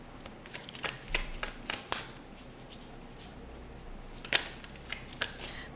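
A deck of oracle cards being shuffled by hand in a quiet room, with soft riffling and flicking bursts that come in uneven clusters, close and fairly faint, with no talking.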